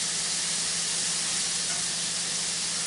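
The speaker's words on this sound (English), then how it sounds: "Get this ham good and cooked over here on this griddle." Ham sizzles loudly and steadily on a hot griddle, a dense, close hiss that holds without break under a low hum.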